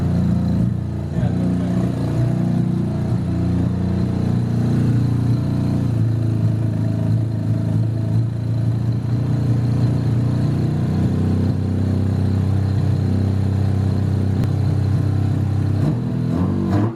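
A Mazda RX7 FC rotary engine fitted with quad individual throttle bodies runs loud and close, holding a steady, lumpy idle throughout without pause.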